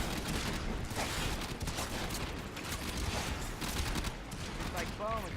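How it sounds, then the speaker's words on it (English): Gunfire and explosions in the video game Warframe form a dense, continuous barrage of rapid shots and booms that fills the whole stretch with no pause. "when you shoot them, everything explodes"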